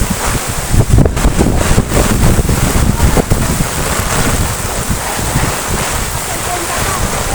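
Strong, gusty typhoon wind roars and buffets the microphone without letup amid heavy rain and flooding, with deep rumbling bursts near the start.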